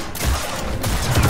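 Rapid blaster fire in a Star Wars Jedi Survivor firefight, a dense burst of repeated shots with no clear gaps across the whole short stretch, loud and close.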